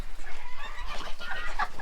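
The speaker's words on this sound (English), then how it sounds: "I think it's a rooster." Black silk rooster on a farm giving a quick run of close, loud clucks and throaty chatter.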